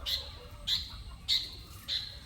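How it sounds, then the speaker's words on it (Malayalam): A bird gives four sharp, high chirps at an even pace, moderately near, over a low background hum. "ആ കിളിയും വന്നിട്ടുണ്ട്"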